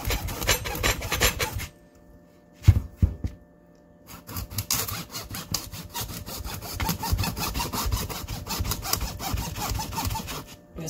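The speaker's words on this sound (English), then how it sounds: "I have to slice it in half, so let's do that." A kitchen knife saws through a tough acorn squash. The rough rasping strokes come close and loud, break off briefly near the start, then carry on steadily to the end.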